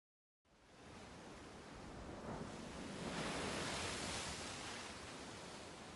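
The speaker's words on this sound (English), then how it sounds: "Sound of waves soaked into my ears." Ocean waves from the Umineko visual novel game: a steady, loud wash of surf noise begins after a short silence, then swells a little and holds without any voices.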